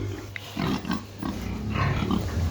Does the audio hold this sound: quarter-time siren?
no